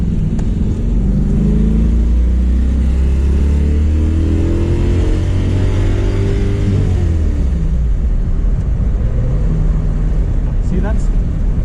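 LS7 V8-swapped Mazda Miata lapping a track at a slow pace, its deep engine droning loud and steady with pitch rising and falling through the gears, wind roar throughout and a voice talking over it.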